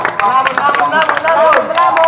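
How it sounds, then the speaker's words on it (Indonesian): A crowd at a street rally claps, sharp scattered hand claps rising through a loud wash of shouting and talking voices nearby. "Tepuk tangan buat mereka."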